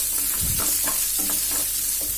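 Ingredients for banana flower chutney sauté in a pan over a low flame, giving a constant close sizzle under a few quick, rhythmic stirring scrapes.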